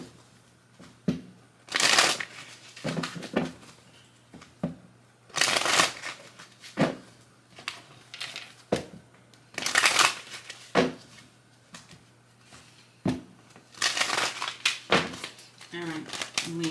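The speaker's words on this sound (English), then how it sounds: "Let me go ahead and shuffle because the whole chunk came out." Tarot cards are shuffled in several quick riffling bursts, close and crisp, with a voice speaking between the shuffles.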